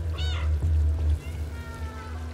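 A single cat meow in the video game Stray rises and falls over a low steady hum, followed by softer tonal sounds.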